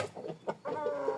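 Hens and a rooster in a backyard coop cluck close by, a few short clucks followed by a longer drawn-out squawking call.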